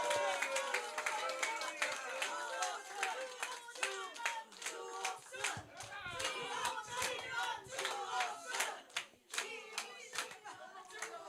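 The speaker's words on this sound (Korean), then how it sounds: "직접 소감을 우리가 한번 큰 박수로 청해 듣겠습니다" Supporters clap at an election campaign launch held at a campaign office in Hanam, South Korea, with a bed of crisp, fairly rhythmic hand claps and murmuring crowd voices, heard from a moderate distance.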